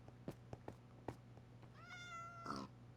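A cat in the Minecraft video game gives a clear drawn-out meow, preceded by several soft taps and clicks in a quiet scene.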